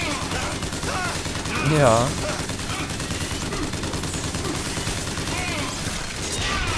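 Gunfire from a shooter game, BioShock Infinite, rattles in a steady burst through the clip with a louder hit near two seconds, while a person talks briefly over it.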